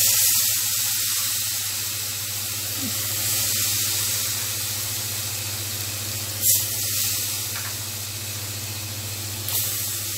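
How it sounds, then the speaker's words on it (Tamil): A continuous hiss and sizzle from water poured into a hot spice mix for pakoda curry, steady and close, with a couple of brief clinks. "நான் வந்து ஒரு 2 கிளாஸ் அளவுக்கு தண்ணி ஊற்றுறேன்."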